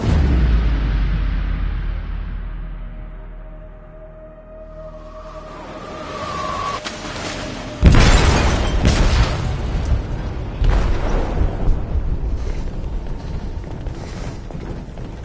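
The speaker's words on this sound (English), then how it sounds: "They detonated an explosive in the hold." Explosion in a ship's hold in a PS4 game: a deep rumbling drone fades out, then a sudden loud boom erupts, followed by sustained crashing and roaring debris that continues to the end.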